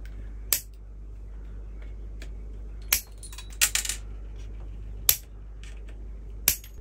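Bonsai cutters snipping through wire and branches on a juniper, sharp isolated clicks spaced a second or two apart with a quick cluster in the middle, close and crisp over a low steady hum.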